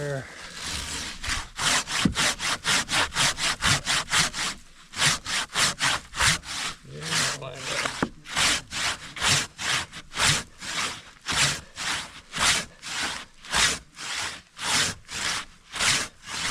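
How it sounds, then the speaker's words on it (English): Hand crosscut saw cutting through a large, hard tree trunk, strokes in a steady back-and-forth rhythm, loud and close, with a brief pause partway through and a few faint voices beneath. "Try a smaller saw so we can get a wedge in faster with."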